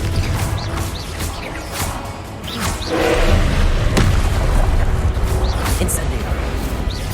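Confringo fire blast spell in Hogwarts Legacy, a booming burst with whooshes and thuds amid continuous game action, while a voice speaks over it.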